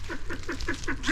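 Pheasants call in a rapid run of short, repeated honking notes at an even rhythm, moderately close and fairly quiet, with no voices.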